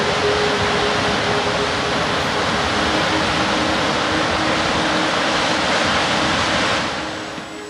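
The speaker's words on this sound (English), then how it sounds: "Clear Creek tumbles about 100 feet down into the gorge, and these falls are just amazing." Broadband roar of North Clear Creek Falls, a creek tumbling about 100 feet into a gorge, steady and loud throughout with no voices, easing slightly at the very end.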